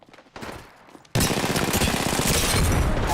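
Enemy gunfire in a video game erupts after a quiet second, a dense, loud stream of rapid shots and bursts that continues to the end.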